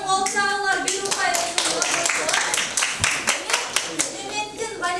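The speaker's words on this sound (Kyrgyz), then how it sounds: "экинчи топтор Азаматтын кол чабуулар" A chemistry class claps for a student, a lively burst of many hands clapping close by with distinct sharp claps and a slightly uneven rhythm, with some talk mixed in.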